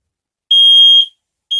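A loud, piercing beep from a battery-powered Kidde smoke and carbon monoxide detector, one long high-pitched tone followed by the start of another, with silence between.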